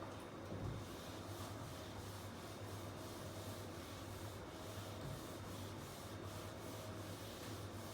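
Rubbing a board clean in a maths lecture, a soft repeated scrubbing swish in steady strokes, faint and close, with no talking.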